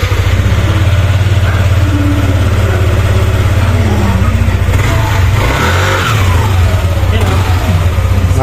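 A Yamaha NMAX scooter engine fitted with a new center spring, clutch spring, 11 g flyballs and CNC lining runs loud and close, a rough throbbing idle that climbs into a rising rev midway, then settles back.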